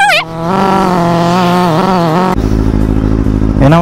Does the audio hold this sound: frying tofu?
no